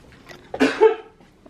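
A single close, sharp sneeze bursts out in a quiet room of a rented holiday flat, with brief breathy sounds around it and no talking.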